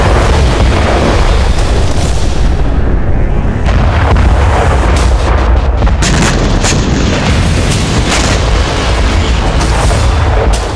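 Heavy Israeli bombardment of Gaza produces loud, dense booms and blasts layered over a constant roar of rumbling noise, with sharp cracks breaking through now and then and no pause from start to end.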